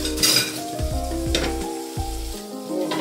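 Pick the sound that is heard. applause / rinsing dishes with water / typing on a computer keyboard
rinsing dishes with water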